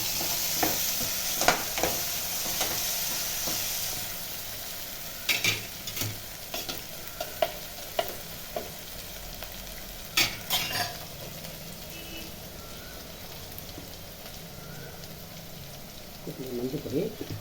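Curry leaves sizzle and crackle in hot oil in a pan for fish kuzhambu, with a steady low frying hiss broken by sharp stirring scrapes and clinks, close and fairly quiet.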